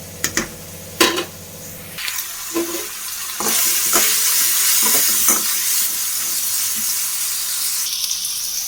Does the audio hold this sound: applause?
no